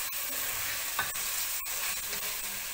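Onions fry in olive oil in a pot, giving a constant soft sizzle with a few brief scrapes and taps as they are stirred, close and fairly quiet with no talking.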